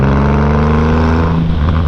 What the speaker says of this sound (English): you just crack that throttle and this thing moves